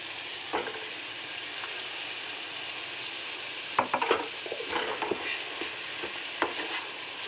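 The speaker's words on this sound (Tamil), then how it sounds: "இதில் பார்த்தீங்கன்னாக்கா இப்போ அதை அரைச்சி வச்ச தேங்காவே ஊற்றுறாங்க." Ground coconut paste poured into a pan of frying capsicum gravy, giving a steady close sizzle with a few brief stirring and pouring knocks, no voices.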